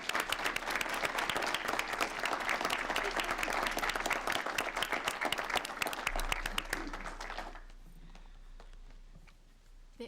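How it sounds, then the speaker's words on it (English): An audience at a school board meeting gives its honorees another round of applause, a dense burst of many hands clapping that holds steady for several seconds and then fades away, leaving quiet room tone. "let's give all of our honorees another round of applause"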